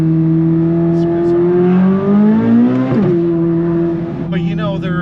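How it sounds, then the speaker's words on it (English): A 2023 Corvette Z06 exhaust revs loud and close, its steady note climbing and then dropping back to a strong idle, with brief talk in the background. "What do you think about that exhaust?"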